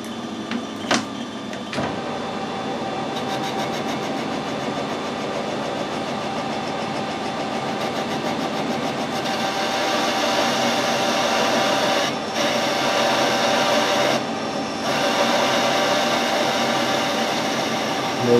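An aluminium workpiece has a thread screw-cut on a lathe, with a steady mechanical whir and drone that grows slightly louder partway through, broken by two short dips, plus a few sharp clicks near the start.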